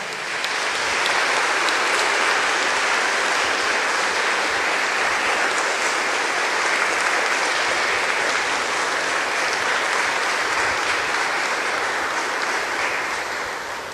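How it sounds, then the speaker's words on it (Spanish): A church congregation at a Mass for the Solemnity of Saint Joseph bursts into sustained, steady applause, a thick wash of many hands clapping throughout. "Le damos un fuerte aplauso"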